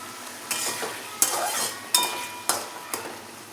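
Whole garlic cloves frying and sizzling in a pan while being stirred, with a steady crackle broken by five sharp scraping strokes of a spoon at regular intervals, close up and alone.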